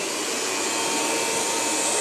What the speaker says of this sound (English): Here's the vacuum cleaner